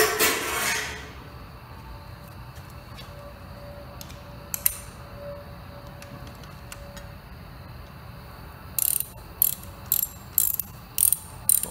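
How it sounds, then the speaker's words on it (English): Ratchet tightening bolts during an engine rebuild on a 1956 Ford 640 tractor, heard as a few scattered clicks early on, then a quick series of short, close ratcheting bursts near the end, with no talking. "Just use the wrench or ratchet."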